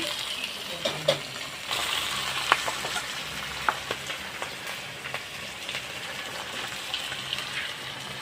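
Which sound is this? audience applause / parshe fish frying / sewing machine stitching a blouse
parshe fish frying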